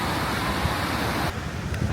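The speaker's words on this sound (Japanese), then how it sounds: "なんか波がここまで来るようになってきたさ。" Ocean surf rolls in at Copacabana Beach in Rio de Janeiro, a steady broadband wash of waves with wind rumble across the microphone, loud and continuous without talk.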